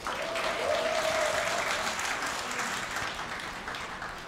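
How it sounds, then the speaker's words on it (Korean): Steady, warm applause from a hall of party members at a Daegu political rally, an even wash of many hands for about four seconds, softening slightly toward the end with no talk over it. "뜨거운 박수로 환영합시다"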